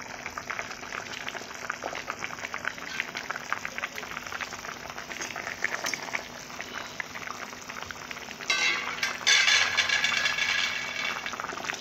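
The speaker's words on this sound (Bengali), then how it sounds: "তরকারি ফুটন্ত অবস্থায় মাছগুলো দেব" A thin curry for potato and fish boils in a pot, a continuous bubbling and popping that grows louder and busier toward the end.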